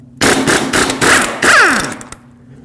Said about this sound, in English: I'm just going to take all of them off with my socket and impact gun